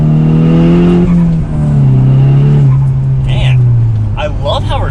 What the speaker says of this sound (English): exhaust noise with the window down a little bit. That makes some good noises to it for sure. And then as we accelerate up a hill,